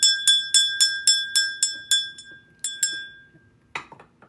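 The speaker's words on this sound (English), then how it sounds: "Listen, we're going to ring my bell." A small hand bell rings in a bright, rapid series of about a dozen clear metallic strikes, each note decaying briefly before the next. A few looser jangles close the sequence.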